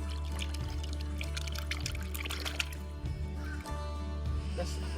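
Cold, clean water pouring and trickling outdoors during an evening family nature walk, a continuous splashing flow with low rumbles and brief bumps underneath.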